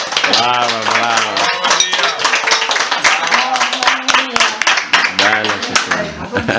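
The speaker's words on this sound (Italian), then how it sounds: "un applauso ci vuole" Clapping rings out in a lively group setting, mixed with loud talking and cheering voices that stay on top of the applause throughout.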